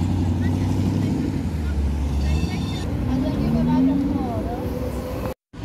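An Abt-tuned Audi RS4 drives past on a city street near a hotel, its engine rising and falling over steady traffic noise and then cutting off abruptly.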